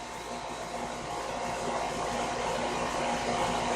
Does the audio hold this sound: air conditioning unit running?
yes